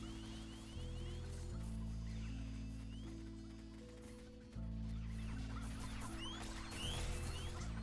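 Chickens cluck in the Roblox Mad City video game during a chicken invasion wave, with short game-sound clucks scattered over a steady, loud layer of synthesized music that runs throughout.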